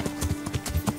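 Horse hooves clip-clopping in Kingdom Come Deliverance, a quick, even run of about eight close hoofbeats on hard ground.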